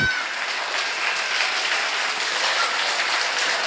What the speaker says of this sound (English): You think we should clap for her or we have clapped enough?